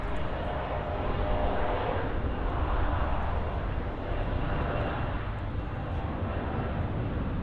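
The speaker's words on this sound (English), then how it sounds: "There goes the CRJ." A CRJ regional jet passing at Munich Airport makes a loud, broad, continuous engine roar that stays strong throughout. No one talks over it.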